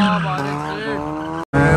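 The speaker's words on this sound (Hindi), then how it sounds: "ये मार रहा है ना डोनट को भाई" A Mazda RX-8 sports car does donuts on a track, its tires squealing in a loud, continuous wavering screech with the engine droning beneath, briefly cutting out near the end before resuming.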